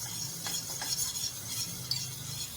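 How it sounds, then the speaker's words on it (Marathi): A whisk stirs white sauce for pasta steadily in a pan, giving a continuous soft scraping swirl with faint clinks, close and fairly quiet, with no voices. "म्हणून याला त्या मिक्सरने सारखं हलवत राहायचंय."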